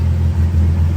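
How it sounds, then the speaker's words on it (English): A lifted Jeep Grand Cherokee ZJ with a misfire idles steadily nearby, a low continuous rumble with a slight dip partway through and no talking. "my Jeep's been running this whole time and the misfire just clears"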